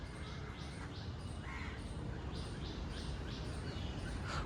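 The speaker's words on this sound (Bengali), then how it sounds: "সব রকমের পাখির এখানটায় আওয়াজ পাচ্ছ, চারিদিকে গাছ আছে বলে" Crows caw repeatedly among trees, with other birds chirping around them. The calls come at a steady pace over a constant bed of outdoor ambience, some near and some farther off.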